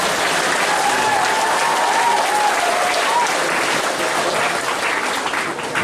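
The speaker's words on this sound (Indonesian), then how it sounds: "Nah ini boleh tepuk tangan." Audience at a school gathering in Manggarai claps in sustained, even applause, loud and continuous from start to finish, with faint voices mixed in.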